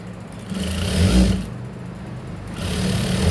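A sewing machine stitches a blouse hook strip in two close, loud bursts of rapid mechanical whirring, with a short pause between them and no talking.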